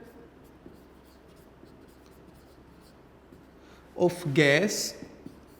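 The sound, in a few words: writing on a board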